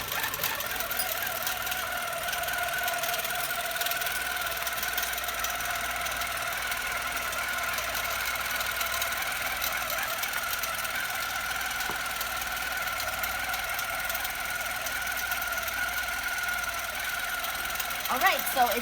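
A Pro Stitcher computerized longarm quilting machine runs steadily through a move function, its needle stitching a continuous horizontal line with a constant mechanical hum and rapid clatter that holds even from start to finish.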